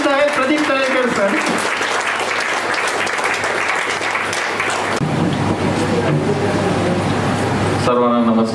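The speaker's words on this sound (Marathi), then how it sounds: "या टाळ्या माझ्यासाठी नाही, प्रदीप तळेकर सरांसाठी आहे" An audience at a Marathi ghazal recital claps in a sustained burst of applause, loud and close, while a voice speaks over it before the clapping briefly gives way.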